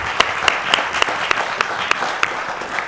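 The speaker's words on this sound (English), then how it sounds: "one more round of applause for our panelists" A conference audience applauds the panelists at the close of a health privacy session, giving a brief burst of dense, steady clapping with a few sharper claps standing out. It is moderately loud and has no talk over it.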